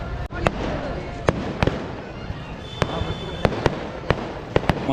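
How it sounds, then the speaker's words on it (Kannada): Firecrackers burst at a crowded Hindu Maha Ganapathi festival procession in Davangere as a string of sharp, irregular cracks, some close and loud, others fainter, over a constant crowd roar. "ಪಟಾಕಿ ಹೊಡಿತಾ ಇದ್ದಾರೆ"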